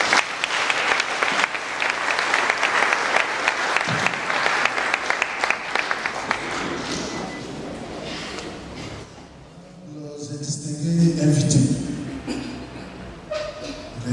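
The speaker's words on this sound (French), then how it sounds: "Veuillez l'applaudir, s'il vous plaît." An audience at a school opening ceremony applauds loudly for about eight seconds; the clapping fades, and a voice then speaks over the quieting room.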